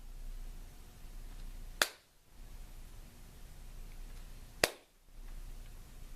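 Two single, crisp hand claps ring out about three seconds apart in a quiet room during a beginning recorder lesson, each sharp and isolated against faint background hiss.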